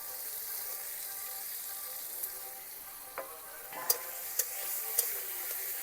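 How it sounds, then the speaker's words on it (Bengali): Carrots, spring onions and peas fry and are stirred in a pan over medium heat, a soft steady sizzle with a few light scrapes and clicks of the spatula against the metal near the end. "এইবার এটাকে নাড়তে থাকবো। খুব বেশি আঁচ দিয়ে নাড়তে থাকলে পুড়ে যাবে।"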